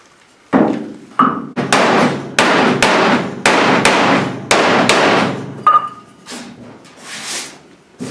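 A hammer beats on a Pontiac Firebird door-to-quarter body panel to correct the gap, about a dozen loud, close metallic blows in an uneven rhythm with brief ringing between strikes.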